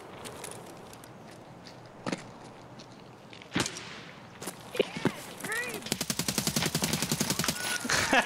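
Escape From Tarkov video game gunfire: a few distant single shots, then a rapid automatic burst of sharp, evenly spaced cracks building toward the end, fairly loud against quiet outdoor ambience.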